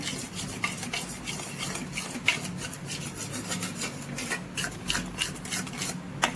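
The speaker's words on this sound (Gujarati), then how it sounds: "હજી 5 મિનિટ આને આપણે વધારે હલાવીશું જેથી કરીને આપણા પેંડા સરસ પડે." A thickening mango peda mixture of mango pulp is stirred steadily in a pan, giving continuous close scraping and rubbing of a spoon against the pan bottom, alone with no voices.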